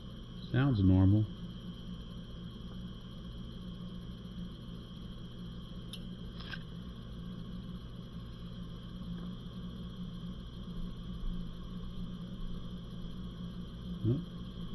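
A Tecumseh refrigeration compressor runs through a stethoscope as a steady low hum with a faint high tone, with a few brief knocks and scrapes from handling.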